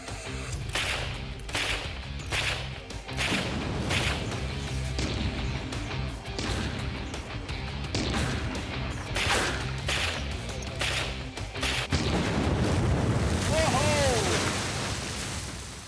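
Bursts of automatic gunfire from a machined automatic weapon crack out loudly in rapid repeated volleys, with short pauses between strings and a heavier final burst, alongside talk from the people firing it.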